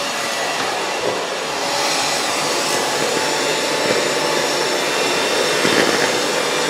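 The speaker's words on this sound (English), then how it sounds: "Now we use the electric mixer again." Electric hand mixer beating cookie dough for chocolate chip cookies, a loud steady whirring drone that holds level throughout with no talking.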